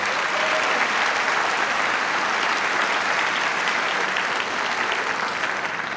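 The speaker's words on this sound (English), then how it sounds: "So let's give a big round of applause for parents and their families" A commencement crowd at Chabot College claps for parents and families, a dense, even wash of applause from a large audience holding steady throughout before easing slightly near the end.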